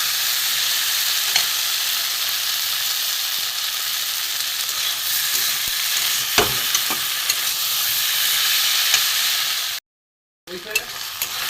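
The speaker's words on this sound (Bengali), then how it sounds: "ভালো করে একটু কষিয়ে নেবো" Spices frying with taro and prawns in a pan give a steady, loud sizzle with scattered stirring scrapes and clinks, broken by a brief silence near the end before the sizzling resumes.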